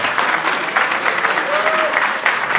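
A church congregation applauds during a Sunday-morning service, a loud, dense, continuous burst of many hands clapping together, with a brief faint vocal tone rising through the crowd noise.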